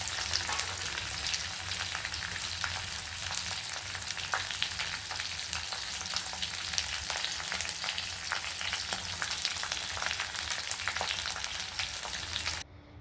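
Onions and ridge gourd fry steadily in a hot pan for a Kannada-style ridge gourd chutney, a continuous close sizzle with faint crackles and no talking, cutting off abruptly at the very end.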